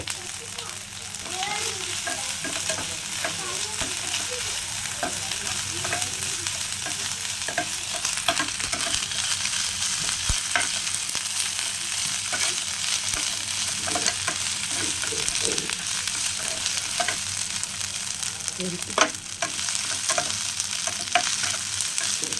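Onions sautéing in a pan for a village-style chicken pepper dish, a dense continuous sizzle with scraping stir strokes throughout, loud and close with no talking.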